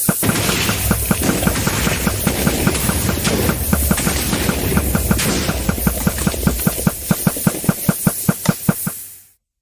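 Rapid bursts of enemy gunfire and booming explosions from a virtual reality combat evacuation simulation fill the scene, the shots growing sharper and more evenly spaced toward the end before cutting off abruptly.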